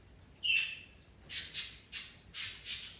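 Birds squawking and screeching at close range: one drawn-out harsh call, then a quick run of four or five loud, sharp squawks in an uneven rhythm, with no talking.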